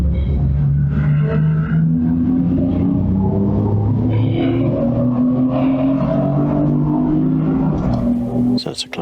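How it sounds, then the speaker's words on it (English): A Class D race car in a 750 Motor Club Roadsports race at Snetterton drones past on track, its engine note climbing steadily under a safety car period, while a voice talks over the rumble. "So that's a Class D car we've just gone by"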